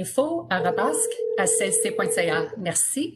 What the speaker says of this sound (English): Some of you can also hear a ringing in the background.